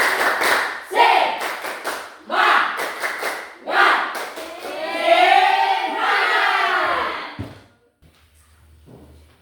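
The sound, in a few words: class doing a rhythmic spirit clap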